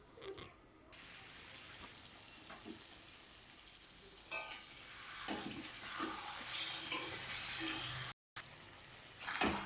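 Mutton being sautéed (kosha) in a home kitchen pan gives a steady close sizzle and frying hiss, with occasional stirring scrapes and clinks and a brief dropout near the end.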